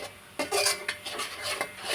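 Food being stirred in a cooking pan, a utensil scraping and rubbing against the metal in a few uneven strokes, close and fairly clear with no voices.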